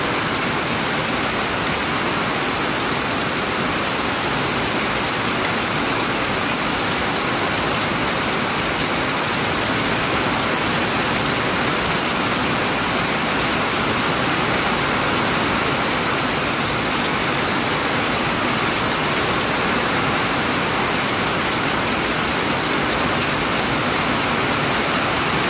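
Very heavy rain pours steadily in a downpour, a loud, dense, unbroken hiss with no pauses or voices throughout.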